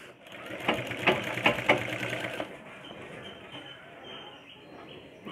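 Sewing machine stitching a folded edge on a blouse, running in a short burst of rapid stitching then easing off, with a voice talking over it.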